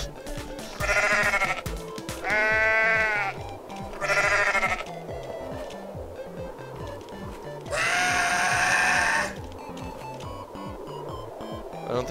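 Goat bleats from the video game Goat Simulator: several loud, drawn-out bleats in separate bursts, with game sounds and background noise continuing between them.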